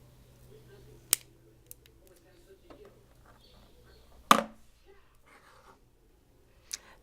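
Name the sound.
cutting vape coil wire on a coiling rod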